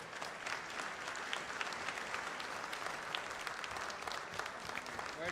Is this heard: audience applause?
yes